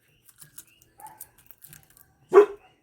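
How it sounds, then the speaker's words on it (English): A single sharp dog bark rings out near the end, preceded by scattered faint clicks and small handling noises in a quiet indoor room. "My dog's barking it across the street because he can hear them talking."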